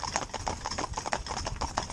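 Hooves of a Clydesdale Cross stallion and two geldings walking together in harness clip-clop in a quick, overlapping rhythm, close and steady throughout with no talking.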